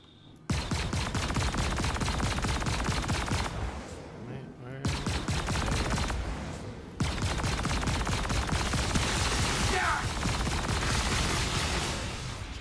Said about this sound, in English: Let's see what these guns can do.